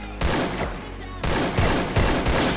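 Video game shooter gunfire comes in dense, loud bursts of rapid shots, split into several clustered volleys with a short pause between them, while a voice talks faintly underneath.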